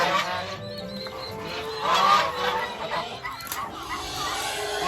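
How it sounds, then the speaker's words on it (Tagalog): Geese honking amid a noisy farmyard, a dense overlapping chorus of nasal calls, loudest around the middle, with faint background voices. "At maingay pa itong mga gansa."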